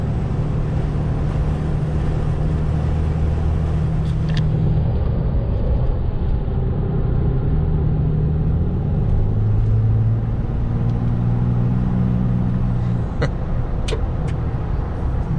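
A 2017 Ram 3500 Cummins diesel pickup fitted with a Banks air intake cruising onto a highway, with a steady engine drone and a thin high turbo whistle sustained over the road noise throughout.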